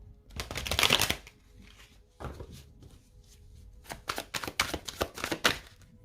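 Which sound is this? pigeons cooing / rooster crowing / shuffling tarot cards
shuffling tarot cards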